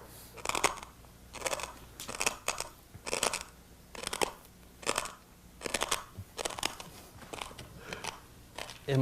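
Crunching glass, heard as about ten evenly spaced gritty crunches, one roughly every second, each a short burst of brittle crackle, fairly close and alone with no talk.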